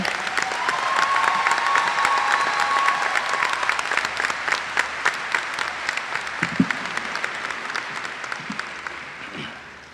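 Audience applause welcoming Dr. Ahmed Kabore to the podium as a speaker at a Savannah Technical College commencement, with sustained dense clapping from a large crowd that holds steady for the full stretch and thins slightly toward the end.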